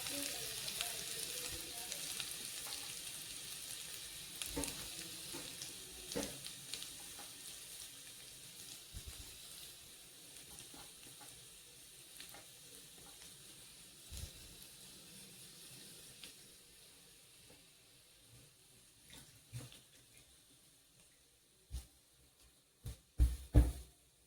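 Ground roasted coconut frying in a pan with mustard seeds, cumin and ginger-garlic paste: a soft, faint sizzle with occasional stirring clicks, growing into a few louder clattering knocks near the end.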